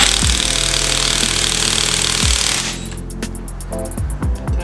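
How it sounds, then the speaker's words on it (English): An impact wrench works on the crown wheel bolts of a Nissan 350Z differential, giving a loud, continuous buzzing hammer that stops partway through. Lighter metallic clinks and short tool bursts follow. "Don't tell me my rattle gun's too weak."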